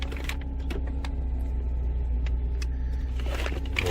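A 2012 Chevy Traverse with a misfire fault idles just after a cold start, a steady low rumble under scattered light clicks and taps from inside the cabin, with no talk.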